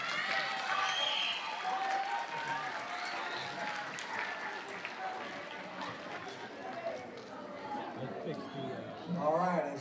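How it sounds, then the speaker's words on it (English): Audience clapping for seventh-grade science students at a school awards ceremony, a steady round of applause filling the room with a voice speaking over it and murmuring nearby. "Give all our science students a round of applause."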